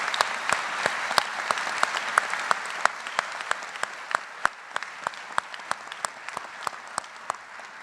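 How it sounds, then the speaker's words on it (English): Scattered clapping from a small audience at a university graduate commencement in a concert hall, individual claps distinct and rhythmic, continuing steadily throughout without voices. "let's give a round of applause to the mothers in our audience today"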